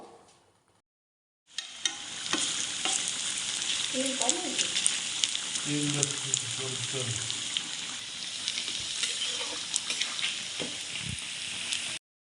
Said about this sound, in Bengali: প্রশান্ত ফুলকপির আর আলু দিয়ে বড়া ভেজে নিচ্ছে